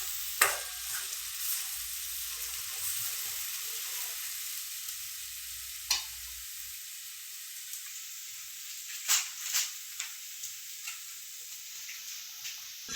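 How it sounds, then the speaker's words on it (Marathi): Masala roasts and is stirred in a pan, a low steady sizzle running throughout with occasional scraping clicks from the spoon, quiet and close. "आपला मसाला लाल व्हायपर्यंत आपण ह्याला भाजून घेऊया."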